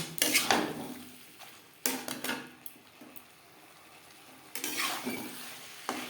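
Boiled potato pieces are stirred into a pan with bean seeds and spices for a traditional koi fish curry, giving three bursts of scraping and clinking against a soft sizzle, with quiet gaps between.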